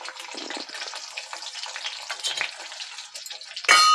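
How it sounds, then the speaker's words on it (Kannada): Chopped green chillies and onion hit hot oil in a kadai with a steady, bright sizzle that stays fairly even, then swells into a louder burst of hissing near the end. "ಕಡಾಯಿ ಇಟ್ಟಿದ್ದೀನಿ ಆಲ್ರೆಡಿ ಎಣ್ಣೆ ಬಿಸಿ ಆಗಿದೆ ಅದಕ್ಕೆ ಕಟ್ ಮಾಡಿರೋ ಮೆಣಸಿನ್ಕಾಯಿ ಈರುಳ್ಳಿ ಹಾಕಿ"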